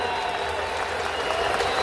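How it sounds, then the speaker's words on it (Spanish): Audience applause at a National Salsa Day concert honoring a salsa singer, a steady wash of clapping held at even loudness throughout, with a faint voice murmuring underneath. "Un aplauso bien fuerte, bien fuerte, bien fuerte, mi gente."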